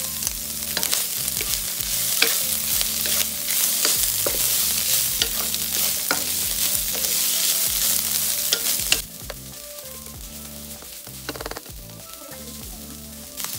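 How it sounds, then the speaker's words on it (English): Ingredients stir-fried in a hot pan while cooking braised pork belly with preserved cabbage: constant loud sizzling with repeated scraping and clinking of a utensil against the pan, dropping to a quieter sizzle partway through. "Stir fry until they smell nice."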